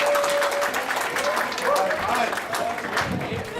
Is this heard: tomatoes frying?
no